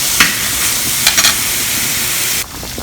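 Onion fries in a pan with a loud, steady sizzle and occasional stirring scrapes, close by, dropping slightly in level near the end.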